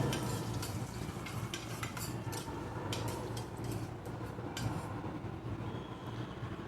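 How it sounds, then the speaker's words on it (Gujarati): Cashews and peanuts sauté in hot oil with a dense, steady sizzle, and a spoon scrapes and clicks against the pan at intervals as they are stirred. "કાજુ અને સિંગદાણા છે તેને અંદર આપણે તેને તેલમાં સાતળી લઈશું. પછી બધું હલાવીને મિક્સ કરી દઈશું."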